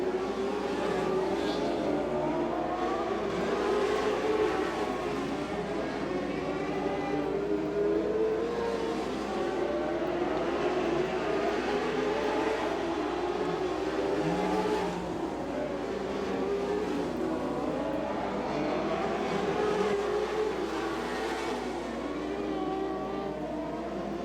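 Race cars lapping a quarter-mile oval during a championship points race, engines droning and rising as cars pass in repeated waves, moderately distant, continuous with a commentator's voice over the top.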